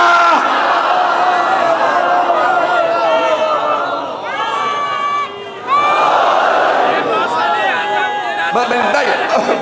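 A large congregation at a Muharram majlis in an imambargah chants religious slogans in loud, massed voices, rising and falling in waves, with a brief dip before the chanting surges back.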